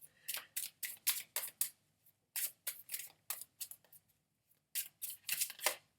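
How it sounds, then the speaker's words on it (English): Tarot cards shuffled by hand in quick riffling bursts, a rapid papery flutter repeated in several separate rounds with short pauses between, close and fairly loud with no voice. "I'm going to shuffle them again"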